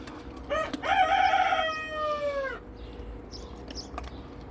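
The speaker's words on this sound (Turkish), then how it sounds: "Ulan tavuklar da var ya." A rooster crows once, long and loud, close by, followed by a few soft clucks from chickens.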